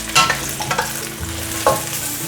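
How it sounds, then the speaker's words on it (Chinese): Mushrooms stir-fried in about a tablespoon of hot oil in a heated wok, a steady close sizzle broken by a few scraping stirs of the spatula, with no talking. "锅烧热了，放入油，差不多1汤匙的油，把菇类放进来炒香"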